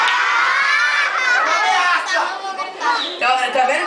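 A crowd of children at a farm hotel show shouts loudly together, high excited voices rising and falling in bursts over a few seconds, close and dense.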